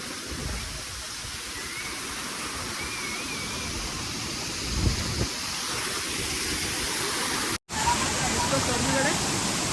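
Constant roaring rush of Kalu Waterfall at Malshej Ghat fills the clip, broad and steady close by, with a short cut near the end.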